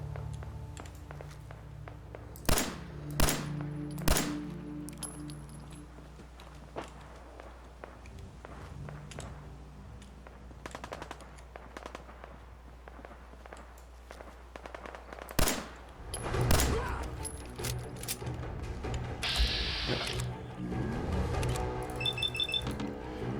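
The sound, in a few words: gunfire in Fallout 4 video game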